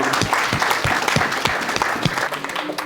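Church congregation applauding at a Saturday service, a dense burst of rhythmic clapping close by that carries on steadily for a few seconds.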